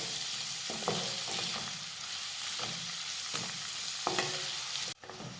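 Finely chopped onions sautéing in a pan for a potato bhaji, a steady close sizzle of frying broken by intermittent clinks and scrapes of stirring, ending with a brief shift near the end.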